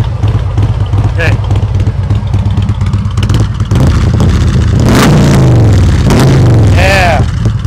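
A motorcycle engine revs with a throaty exhaust during slow-speed riding practice, loud and close, its pitch rising and falling in the second half while voices talk throughout.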